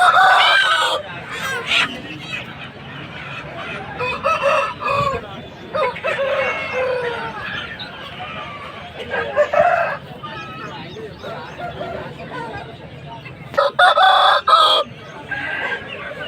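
A country-breed rooster crows loudly and repeatedly nearby on a farm, its long calls rising and falling, with other fowl clucking and brief voices in the background.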